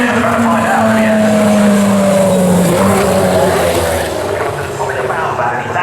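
A Mercedes DTM touring car from the 2.5-litre era, driven by a woman at the Goodwood Festival of Speed, passes with a loud engine note that falls in pitch as it goes by, under steady crowd and commentary noise.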